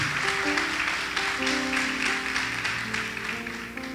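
A church congregation applauds during a morning worship service, a continuous wash of clapping with sustained musical tones running underneath.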